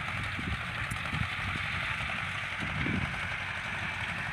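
A small hay tractor engine runs steadily at idle, a continuous low rumble with a faint mechanical clatter, fairly close and unbroken throughout.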